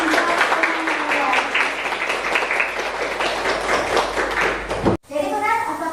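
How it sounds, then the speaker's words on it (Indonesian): Pupils in a classroom clap together at close range in a fairly loud, steady patter, then the clapping cuts off abruptly and a voice starts talking. "Beri tepuk tangan untuk semuanya."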